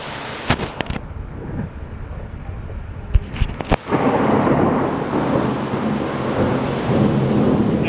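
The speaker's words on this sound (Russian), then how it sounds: "Вот это погодка. Класс. Супер просто, дождик." A summer thunderstorm over Moscow with squall winds: sharp thunder cracks break out in the first seconds, then heavy rain settles into a steady, loud roar that fills the rest of the scene.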